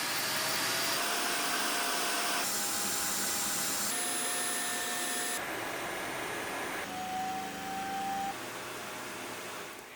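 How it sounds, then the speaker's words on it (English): A budget robot vacuum's auto-empty base runs loudly and steadily, a broad roaring suction whose whine shifts pitch in several stages, with no talk. "I also measured the noise level of the auto empty bases"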